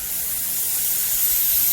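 Continuous hissing spray of water from an underground sprinkler system head, steady and close, with no voices.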